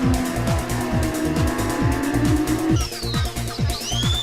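Porsche 924 and Boxster race cars lapping Oulton Park, a loud, steady engine drone with rhythmic gear-change dips, then higher-pitched engines sweeping past close by, no voices.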